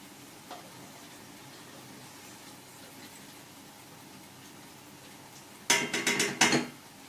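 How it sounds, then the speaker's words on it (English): Frying oil being drained from a pan of onions in a kitchen, a faint low sizzle and hiss for several seconds, then a sharp cluster of metallic clanks and scrapes from the pan near the end. "so just drain off the oil. Be super careful when you're doing this."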